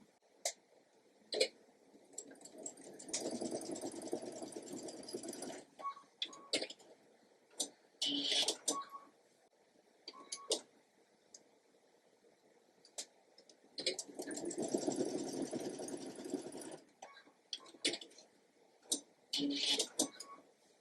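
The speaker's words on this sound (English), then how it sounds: "And we're just going to sew that together." A sewing machine stitching quilt block pieces runs in two bursts of steady whirring and rapid needle clatter, close by, separated by quiet spells with small clicks and ticks.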